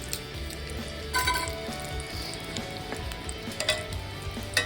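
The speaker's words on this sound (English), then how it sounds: "Got to keep turning these babies. Yeah, they're starting to sear pretty good." Shishito peppers blistering in oil in a cast iron or nonstick pan, a dense steady sizzle with occasional crackles and light clinks of turning, close and unaccompanied by talk.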